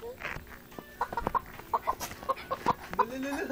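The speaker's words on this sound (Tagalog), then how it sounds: "Nahadlok ang manok." A frightened pet chicken clucking in short, rapid bursts close by at home while a small child chases it, the sharp clucks coming in an uneven series with faint background voices.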